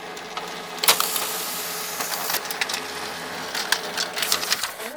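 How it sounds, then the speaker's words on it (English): A Dell 2335DN laser printer runs off a test page, a steady mechanical whir with scattered clicks and brief clattering bursts from the paper feed, close by and moderately loud. "printer properties and print test page"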